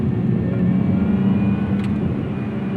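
A Lotus sports car drives along, its engine and exhaust giving a steady, loud low drone from inside the cabin with no change in pace.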